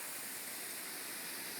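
Lawn sprinklers spray water in a steady, broadband hiss, like rain or a small waterfall, continuous and fairly faint with no voices.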